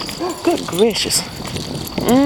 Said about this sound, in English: That was the dog, y'all. Listen at him.